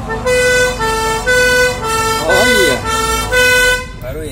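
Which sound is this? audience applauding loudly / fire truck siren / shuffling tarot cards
fire truck siren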